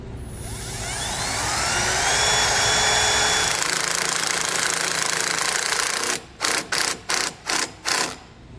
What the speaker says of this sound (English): take a small drill bit, make sure it's smaller than the tapper itself, and drill a hole for it first